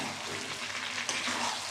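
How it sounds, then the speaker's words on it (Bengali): Chicken meat being kosha-sautéed in a pan gives off a brief, soft, continuous frying sizzle with light stirring. "মাংসটা আমার দেখো কষানো হয়ে গেছে"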